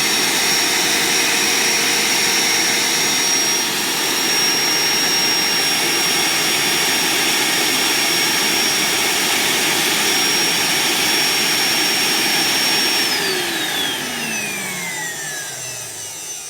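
A vacuum cleaner running loud and steady with a high whine, then winding down as the motor slows near the end, no voices.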